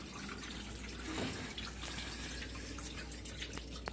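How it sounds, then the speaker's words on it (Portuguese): Dishwasher filling with water as its wash begins, a steady dripping and splashing hiss inside the machine, close and continuous for a few seconds with no talking. "a água já começou"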